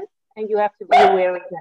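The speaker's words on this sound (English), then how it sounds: "that's the dog" A dog barks once loudly and close, following a man's speech, with a brief whimpering tail after the bark.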